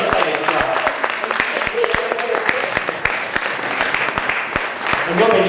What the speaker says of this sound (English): So round of applause for Robin.